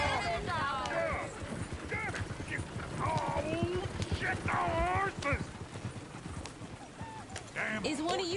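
Steady clip-clopping of horse hooves in a PS4 video game, rhythmic and continuous beneath character dialogue, with a brief whinny cutting through the ongoing talk.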